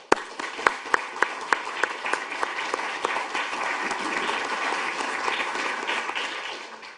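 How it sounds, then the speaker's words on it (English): A conference audience applauds a panel on security sector transformation, opening with a few distinct, spaced claps that quickly swell into steady, moderately loud applause from a sizeable room, tapering slightly at the end. "I'd like to invite a round of applause for our panel"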